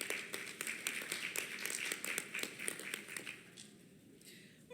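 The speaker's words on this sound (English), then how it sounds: "Big round of applause for them." Scattered hand claps from a small healthcare conference audience, a modest round of applause that thins out and fades toward the end.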